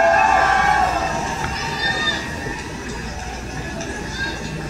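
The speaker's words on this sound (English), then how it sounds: "And look, I hate to hear that cheer." A crowd cheering and shouting, loudest at first and then easing to a steady murmur, with voices talking over it.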